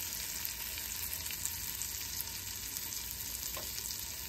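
Curry paste frying in hot oil for a fish curry, a steady, even sizzle that holds through the whole stretch with faint crackles and no voices.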